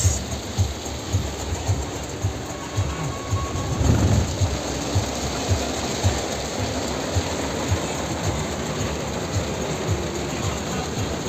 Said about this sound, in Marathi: दोन्ही साईडला जंगल आणि मुसळधार पाऊस